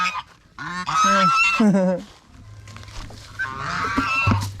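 A domestic goose honks loudly several times in quick succession, nasal and close, then softer gabbling and low rumbling follow.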